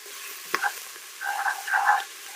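Chopped onions with salt, oregano and cumin cook for a vegetarian chili and are stirred in a pot. A quiet sizzle runs under a single clack, then two bursts of scraping stirring.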